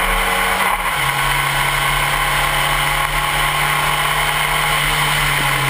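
SCCA Spec Racer Ford race cars run during a race in San Francisco, with a loud, continuous engine drone whose pitch drops once early on and then holds steady under a bright hiss of track noise.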